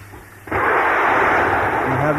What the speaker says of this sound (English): We have main engine start.